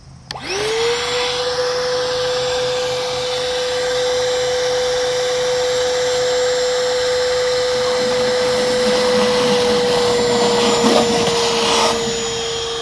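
A RIDGID cordless wet/dry shop vacuum sucks water from a full 5-gallon bucket: a loud, close, steady motor roar with a sustained high whine that starts abruptly, runs without letting up and gurgles slightly near the end.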